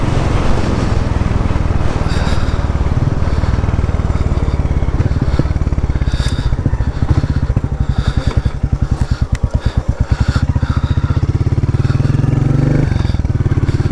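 Royal Enfield Meteor motorcycle riding along, its engine droning loudly and steadily throughout with a rhythmic pulsing that swells midway as the revs rise, heard close from the rider's helmet with wind rush.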